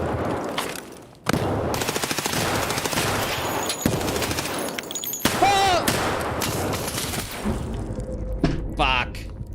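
Sustained automatic gunfire in a multiplayer shooter game, loud rapid bursts that run almost nonstop, with a brief pause early on, while players talk over it.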